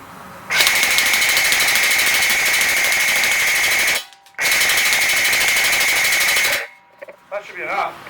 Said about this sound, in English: We're going to shoot a bunch of rounds in full auto now.